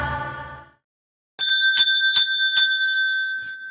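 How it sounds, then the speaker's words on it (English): A bell rings several times, clear repeated metallic dings with a ringing tail, close and loud, following a brief low tone and a pause of silence. "Is the bell getting on your nerves yet?"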